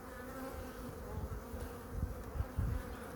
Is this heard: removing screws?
no